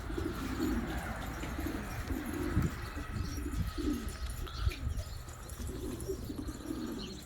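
A pigeon or dove coos outdoors in repeated soft, low phrases, faint against a quiet background.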